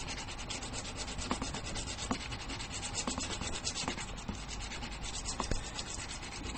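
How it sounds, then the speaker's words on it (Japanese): Bone guitar nut for a Fender Jaguar being sanded with 240-grit sandpaper on a backing block, a steady close scratchy rubbing with quick repeated strokes and small clicks, no talking. "サンドペーパー、まず240番で、こういうね、当て木を使って、"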